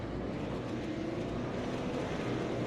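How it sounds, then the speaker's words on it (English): Race car engines rumble together at a green flag start, a steady, fairly distant roar with no clear revs standing out and no speech over it. "Revving up the engines and ready to rock and roll."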